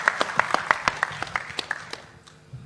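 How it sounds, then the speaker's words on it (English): An audience at a national seafood exports workshop applauds the Minister of Commerce with sparse, uneven claps that thin out and fade within a couple of seconds. "Give a big applause for him."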